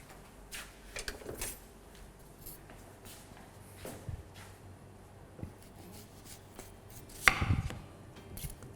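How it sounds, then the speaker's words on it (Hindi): Onions being sliced with a knife in a kitchen while making mutton lal mirch masala: irregular, fairly quiet chopping taps on a board, spaced out with small shuffles and rubs between cuts. "इनको कर लीजिए स्लाइस।"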